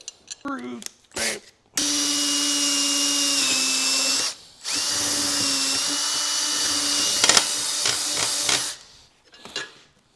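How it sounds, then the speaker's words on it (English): A power drill bores a hole into a chainsaw case in two long, whining bursts, the pitch dipping under load. Brief speech is heard before and after the drilling. "Drill a hole."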